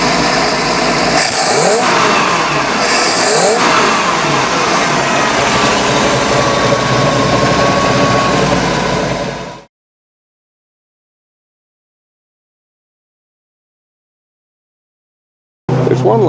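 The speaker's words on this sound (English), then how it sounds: "I'm going to try to give it a more of a rev here." A carbureted Mercruiser 5.0 V8 boat engine running rough and revving loudly and steadily for about ten seconds, then cutting to silence before the engine noise briefly returns.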